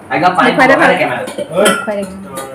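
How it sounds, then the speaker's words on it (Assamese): Dishes and pots clink and clatter repeatedly at close range as they are washed, with bright metallic knocks scattered through the clip. "বাচন কেইটা বাচন ধুই আছে"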